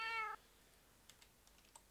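A cat meowing in Minecraft 1.2.5, one short clear meow at the start, followed by quiet keyboard typing clicks.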